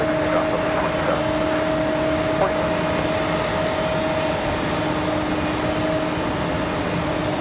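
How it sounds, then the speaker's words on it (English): A Delta Boeing 737-900 jet arriving from Atlanta at Raleigh-Durham, a steady distant engine drone with faint tonal whine and a few soft clicks, no talking. "So here's Delta 1518 from Atlanta, Georgia. About a 54-minute flight for the 737-900."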